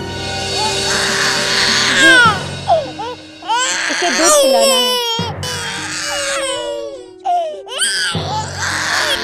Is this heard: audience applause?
no